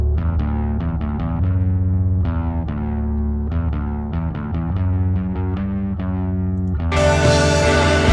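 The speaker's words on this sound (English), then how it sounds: "There's another bass guitar that comes in here also, just to give that extra low note there." Distorted, effected bass guitar playing a run of plucked low notes, followed by a burst of brighter full-band sound at the end.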